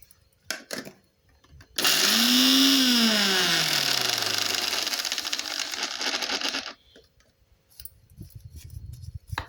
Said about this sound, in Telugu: మిక్సీ అవ్వటమే